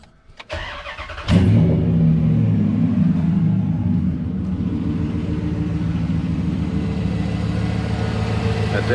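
A 2003 Ram 1500 pickup engine cranks briefly and catches, then settles into a steady, close, loud idle rumble that continues unbroken with no talking.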